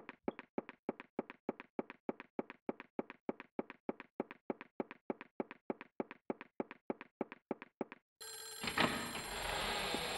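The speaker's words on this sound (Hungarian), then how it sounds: "Ez egy telefoncsörgés akkor fel." A telephone rings in the horror video game Clock Tower: The First Fear, a quick, even run of close bell bursts repeating for about eight seconds before cutting off into a noisy burst of background sound.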